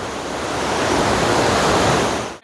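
Strong, fast river water rushing at Ob Khan National Park, a dense, loud, continuous roar heard close up and alone, cutting off abruptly at the end.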